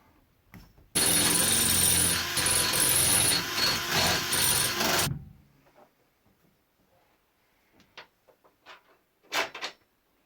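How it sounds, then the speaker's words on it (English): A power drill bores holes beneath a car to secure a roll cage back plate on an Excel race car, one loud sustained burst of about four seconds, followed by faint scattered clicks and handling noises. "So I'm just going to drill it out from here, hope for the best."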